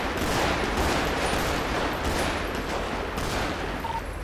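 Dense, continuous gunfire from a GTA roleplay shootout between gangs fills the whole stretch at steady loudness, a sustained fusillade with no clear gaps and no speech over it.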